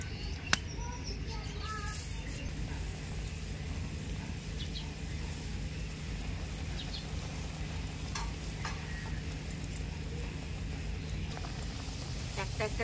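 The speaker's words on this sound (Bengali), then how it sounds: "একটা একটা করে পুরি এবার ভেজে নেবো" Puri fries in hot refined oil, giving a continuous, even sizzle that holds steady and fairly quiet from start to finish, with a faint brief tap near the beginning.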